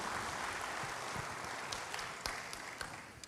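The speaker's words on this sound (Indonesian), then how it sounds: "Berikan tepuk tangan bagi Tuhan, haleluya." A church congregation claps during a sermon, a faint, scattered applause with a few sharper individual claps standing out toward the end.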